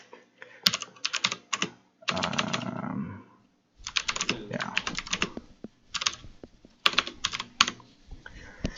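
A chmod command is typed on a computer keyboard in quick bursts of close, crisp key clicks. Pauses and a brief burst of louder noise break up the typing.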